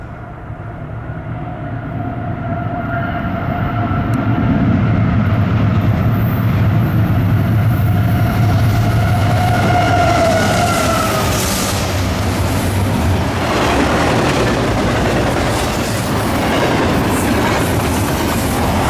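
A Norfolk Southern freight train, 28X, with an NS ACE locomotive trailing second, builds from approaching engine rumble to a loud, close, sustained roar of rolling wagons with rhythmic wheel clatter and no talking.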